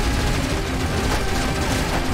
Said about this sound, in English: It's a whole helicopter firing at you with the same guns!